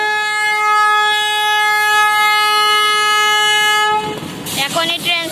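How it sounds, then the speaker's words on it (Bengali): A train departs with a loud, sustained horn blast held steady for about four seconds, then gives way to rumbling wheel and engine noise and rattling cars close by. "ট্রেন যাচ্ছে, অনেক জোরে শব্দ করে ট্রেন"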